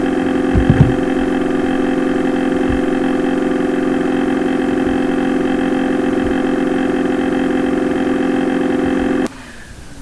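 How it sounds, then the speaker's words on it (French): A computer cooling fan's steady mechanical hum with tonal whine runs for about nine seconds, then drops abruptly to a much quieter level as it spins down. "je vais arrêter jusqu'à ce que le ventilateur soit arrêté"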